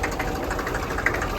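Tractor engine idling steadily up close on a farm, a low continuous rumble with a slight knocking pulse throughout, no talk.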